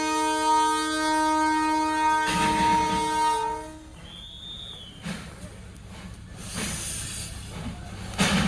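The Darjeeling toy train at Batasia Loop sounds a loud, sustained multi-tone horn for a few seconds, then lets out a broad steam hiss with rumbling and clanking, close by and without talk.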